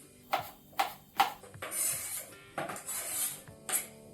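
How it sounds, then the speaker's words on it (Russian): A knife chopping cucumbers and onion on a cutting board: sharp, close knocks in an uneven rhythm, with brief scraping and rustling between cuts and no talking. "возьму нож, начну резать огурцы и лук"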